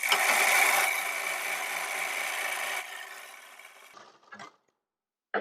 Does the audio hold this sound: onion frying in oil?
no